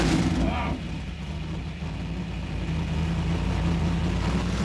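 A 500 horsepower V8 engine runs steadily after starting, a loud continuous low rumble with a brief higher flutter at the very start, close by and with no talk over it.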